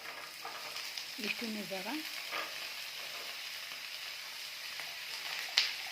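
Carrots, beans and kohlrabi fry with onion in oil for a hotel-style vegetable sagu, a steady close sizzle with light stirring, a brief spoken phrase and a small clink at the end.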